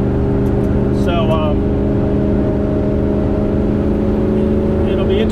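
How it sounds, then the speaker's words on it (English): A Maserati Ghibli Spyder 4.9 SS engine idles loud and steady while cold, its carburetors giving a few brief pops over the constant rumble. "Carburetor's popping and spinning a little bit."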